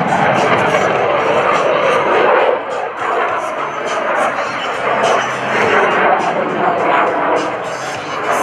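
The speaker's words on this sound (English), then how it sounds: "The Jack Link's Jet Waco, based on the 1929 Taperwing Waco, redesigned and structurally reinforced." The Jack Link's Jet Waco, a redesigned and structurally reinforced 1929 Taperwing Waco aerobatic biplane, roars past at a 2014 Rhode Island Air National Guard open house airshow. The loud, sustained rushing engine noise briefly eases partway through, then swells again.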